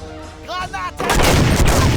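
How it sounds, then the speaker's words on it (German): A German voice shouts a short call, then a loud, close grenade blast goes off in the Wolfenstein game and its heavy rumble carries on to the end. "Granate!"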